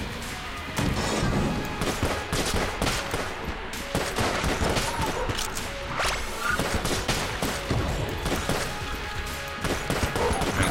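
Rapid, dense gunfire from the Cold 45 in the video game Enter the Gungeon, a continuous barrage of shots with crashing impacts and whooshes running loudly throughout.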